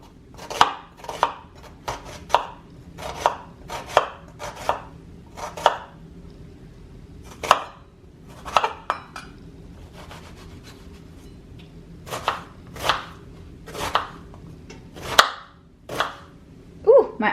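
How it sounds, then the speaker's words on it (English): Onions being chopped with a knife on a sturdy cutting board: a run of sharp, crisp cuts in irregular bursts with short pauses, close and clear with no talking. "So I'm gonna get started with chopping up the onions."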